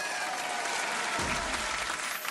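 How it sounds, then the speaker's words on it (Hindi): A crowd in a kids' cartoon breaks into dense, steady applause, bright continuous clapping, with a low thump midway. "ठोको ताली।"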